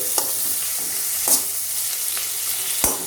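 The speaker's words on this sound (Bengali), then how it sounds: "এবং সব সময় লো ফ্লেমে ধীরে ধীরে ভেজে নেব।" Hilsa fish frying slowly in oil over a low flame, a steady close sizzle broken by a few sharp clinks and scrapes of stirring, with no voices.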